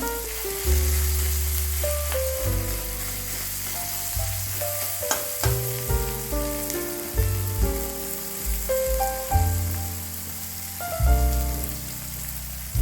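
Chopped ginger and garlic fry in a pan with a continuous crackling sizzle and occasional stirring knocks, all under steady background music.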